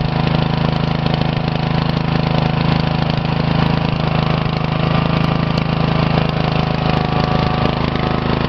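Riding lawn mower engine run as a homemade lathe, with a cinder block weighting the seat, holding a steady, loud idle with constant low hum and no pauses, close by.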